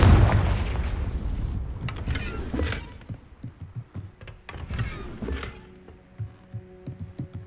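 A blasting spell explodes in the Hogwarts Legacy video game, a heavy close boom followed by scattered debris clatter and a second crackling burst, then fading rumbling tail.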